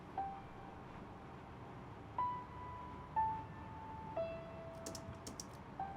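Grand piano from a Triton acoustic piano patch plays a sparse, dry intro with no reverb: four single held notes struck about a second apart, each decaying quietly over a soft background hiss.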